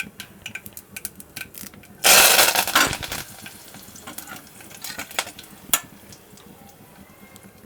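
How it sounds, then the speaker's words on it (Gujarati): Mustard and cumin seeds splutter and crackle in hot oil in a Gujarati kitchen pan for a drumstick curry, with a loud burst of sizzling about two seconds in that settles into scattered close pops and crackles. "રાઈ જીરું તતડી જાય પછી હિંગ નાખવાની છે."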